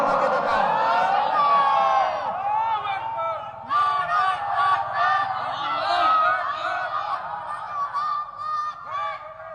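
A rally crowd with raised hands shouts takbir in unison, a loud, close, massed chant that rises in repeated swelling bursts with brief gaps between calls.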